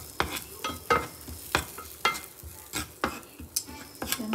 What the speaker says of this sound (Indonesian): Ini aku tumis bawangnya dulu ya.